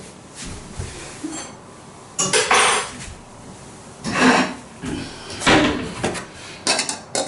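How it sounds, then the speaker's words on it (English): Fried onions are drained in a kitchen, with bursts of pots, pans and utensils clattering and scraping at irregular moments between quieter stretches. "drain the onions."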